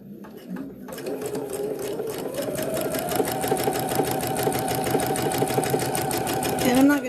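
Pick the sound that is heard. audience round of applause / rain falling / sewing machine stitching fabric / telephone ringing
sewing machine stitching fabric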